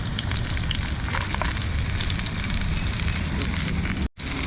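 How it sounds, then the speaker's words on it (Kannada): Onions sizzle in hot oil in a small pan on a compact camp stove during a bicycle trip, a dense, steady crackle and hiss that stays close and loud throughout, broken only by a very brief gap near the end. "ಫಸ್ಟ್ ಆದರೆ ಈರುಳ್ಳಿ ಹಾಕ್ಬಿಟ್ಟಿದ್ದೀನಿ"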